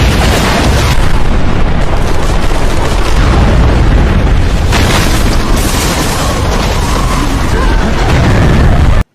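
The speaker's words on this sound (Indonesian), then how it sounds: "Seketika itu juga bom langsung meledak dengan sangat dahsyat hingga menghancurkan sebagian hutan." Bomb explosion in a jungle scene from the Rambo films, a loud sustained blast with heavy rumble and debris roar that fills the clip before cutting off abruptly.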